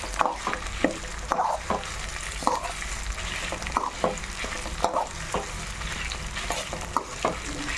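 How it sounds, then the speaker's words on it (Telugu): Cumin seeds and dried red chillies fry over a medium flame in a pan for a curry leaf spice powder, sizzling steadily while a spoon scrapes and stirs in regular, distinct strokes throughout. "మీడియం ఫ్లేమ్లో పెట్టుకొని వేయించుకోండి లేకుంటే మాడిపోతుంది"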